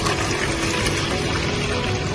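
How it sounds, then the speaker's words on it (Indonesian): Water pours steadily into a bucket to make a model river overflow for an ultrasonic flood sensor demonstration, a continuous broadband splashing rush that holds loud and even throughout with no talk. "Kita akan menuangkan air sebagai pemicu sungai tersebut meluap."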